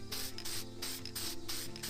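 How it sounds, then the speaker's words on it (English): Aerosol can of copper gasket spray hissing in repeated bursts onto a new head gasket for a 2008 Subaru Impreza, several short sprays in a steady rhythm, close and clear. "we have our copper spray. So we're just going to, almost just like spray painting"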